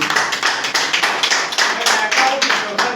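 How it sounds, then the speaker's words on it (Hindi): Audience applause at a party meeting in an office near Charbagh railway station in Lucknow: dense, steady clapping from a small crowd, close and loud throughout. "जोरदार तालियां"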